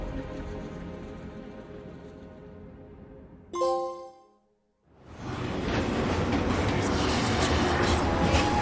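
A train in Final Fantasy 7 Remake rumbles with a steady, rain-like rushing noise, cut briefly by a bright chime and a moment of near silence before the loud, broad clatter resumes.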